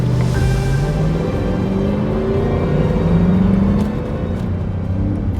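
A Mercedes-AMG A45S with a 2.0L engine and an older C63 AMG with a V8 roll off together, giving a loud, close, steady engine rumble and drone that climbs in pitch as both accelerate.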